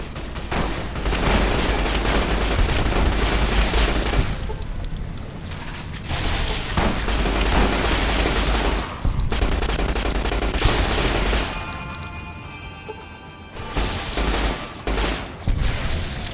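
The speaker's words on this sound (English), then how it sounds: "I'm using the gun that I got from the last DLC" Bursts of rapid gunfire with booming shots from the Fallout New Vegas video game, using a gun from a DLC, come in loud, dense volleys separated by brief pauses.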